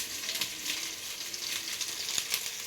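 Chicken with onions frying in a pan for biryani, a soft, fairly faint continuous sizzle with gentle crackles and occasional stirring pulses.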